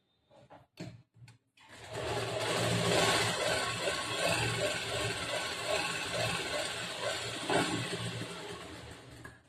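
A sewing machine stitches a back-hook blouse in a tailoring class, running steadily at close range for about eight seconds after a few short taps.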